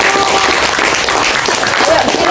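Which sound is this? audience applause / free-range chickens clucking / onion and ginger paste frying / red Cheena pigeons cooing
audience applause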